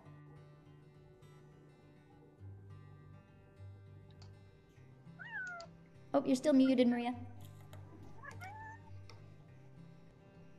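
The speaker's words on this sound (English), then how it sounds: "Somebody's kitty, I hear too, it's amazing." A cat meows a few times, close and fairly loud, including a sharp drawn-out cry, while a person speaks briefly over a low electrical hum.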